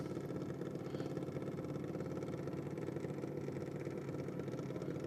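A junior dragster engine with ignition issues idles steadily and loud at a drag strip, a continuous low, even, pulsing rumble with no throttle changes.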